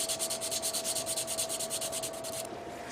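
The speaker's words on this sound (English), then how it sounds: "So, I'm taking apart the legs at this moment, sanding it down, cleaning it up" Parts from the legs of an MG Dom Tropen Gundam model kit are sanded close up, giving fast, even back-and-forth rasping strokes that continue steadily with no talking.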